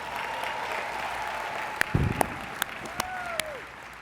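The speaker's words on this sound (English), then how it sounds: "Please give yourselves a warm round of applause." Graduates at a 2016 Montgomery College commencement burst into a short round of applause, a dense wash of clapping with a few sharp individual claps and a faint voice toward the end.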